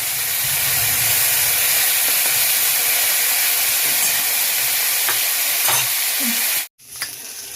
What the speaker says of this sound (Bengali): এবার তেলের মধ্যে মাছগুলো ছেড়ে দেবো।